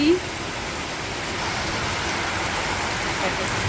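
Heavy rain falls in a constant broad roar while water streams past like a river, steady and close, with a brief voice at the very start.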